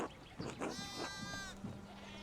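Sheep bleat in the medieval video game Pentiment, several wavering cries close by, overlapping with low voices talking in the background.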